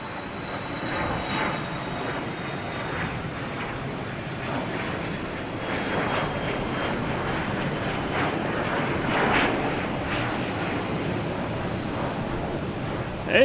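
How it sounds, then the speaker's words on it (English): A NetJets Challenger 350 business jet climbs out of Boston Logan, its engine a steady mid-distance roar that swells gently and peaks near the end, with light wind noise. "Another NetJets heading to Teterboro. A Challenger 350."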